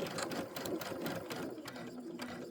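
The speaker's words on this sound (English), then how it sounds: "I'm going to sew these together" A domestic sewing machine runs steadily, stitching quilting fabric pieces together for a Kimberbell Lucky Us pillow, its fast mechanical whir continuous and close throughout, with no talking.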